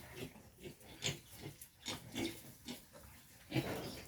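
Quezon Black piglets scuffle on a farm, giving a string of grunts and short squeals in irregular bursts, close by, with a sharper squeal near the end.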